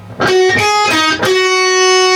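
Distorted electric guitar phrase: a few quick picked notes in succession ending on a sustained, ringing note, loud and alone.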